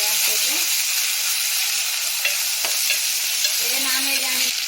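A spoon stirs egg curry frying in a pan, with a continuous close sizzle and hiss broken by scraping strokes and soft clacks, and no voices.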